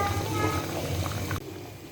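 A pot of tough chicken at a steady rolling boil, continuous bubbling and simmering close by before cutting off abruptly near the end.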